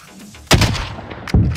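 Two heavy gunshots in Call of Duty: Warzone, a loud booming report followed about a second later by another, each with a short rumbling tail.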